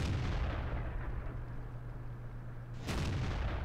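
A tank cannon in World of Tanks booms loudly in a sustained, rumbling blast, then a second sharp report follows near the end, close and heavy with no voices.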